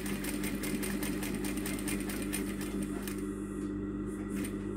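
An industrial sewing machine driven by a clutch motor runs slowly and steadily, a continuous motor hum beneath rapid rhythmic needle stitching that thins out toward the end.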